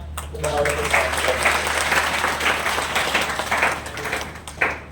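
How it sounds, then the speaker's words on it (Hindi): Audience applause at a free coaching centre event in Udaipur, a sustained round of clapping from a seated crowd with a low steady hum beneath and speech faintly mixed in. "एक बार जोरदार तालियां"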